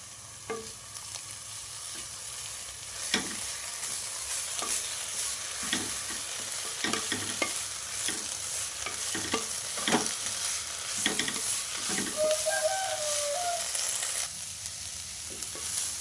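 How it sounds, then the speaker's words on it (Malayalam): Shallots, ginger, garlic and black pepper sauté together in a pan for a Kerala-style chammanthi, a steady soft sizzle of frying broken by repeated clinks and scrapes of a spoon stirring, close and continuous with no talking. "ചെറിയ ഉള്ളി ഇഞ്ചി വെളുത്തുള്ളി കുരുമുളക് അതെല്ലാം കൂടി ഇതിലേക്ക് ആഡ് ചെയ്യുന്നുണ്ട് എല്ലാം കൂടി ഒപ്പം ഇട്ടിട്ട് നമുക്ക് വഴറ്റിയെടുക്കാം"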